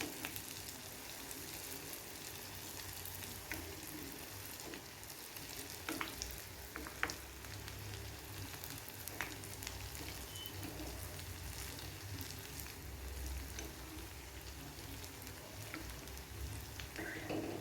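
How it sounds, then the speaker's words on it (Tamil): Idli batter bondas deep-frying in hot oil. A steady, close crackling sizzle runs throughout, with occasional soft stirring taps. "நல்லா ஒரு கோல்டன் ப்ரௌன் வர அளவுக்கு ஃப்ரை பண்ணிக்கோங்க."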